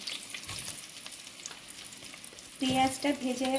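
Onions hitting hot oil in a home kitchen pan, after potatoes fried with turmeric, salt and chilli powder; a steady sizzle runs throughout, then louder clattering stirs and spatula scrapes come in near the end.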